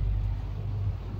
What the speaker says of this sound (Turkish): Arabanın sesini dinle, az kaldı.